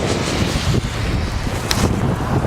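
Strong wind roars steadily beside a partly frozen river near a bridge in Hokkaido, buffeting the microphone with loud, continuous low rumble and gusts and no talking.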